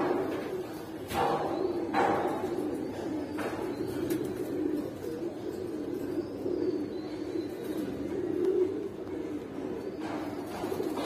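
Low, repeated cooing of Giribaz pigeons, soft and steady, with a few wing flutters or thumps mixed into the continuous murmur.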